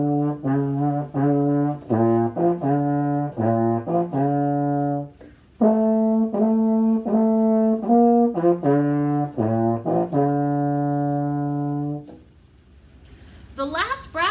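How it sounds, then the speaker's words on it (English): A baritone horn plays a lively melodic phrase of many short, clearly separated notes and a few held ones, loud and close, then falls quiet near the end. "So its partner instrument is called the baritone."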